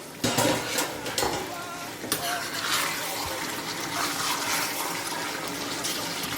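Attiéké mixture with tomato stirred as it fries in oil: a loud, broad sizzle with wet bubbling and scraping stirs, strongest at the start and continuing steadily, no talking.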